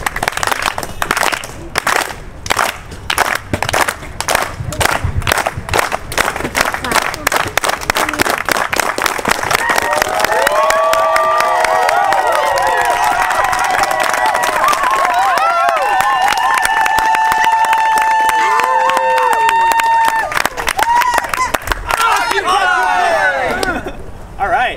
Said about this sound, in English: I feel like we need to start with a unity clap today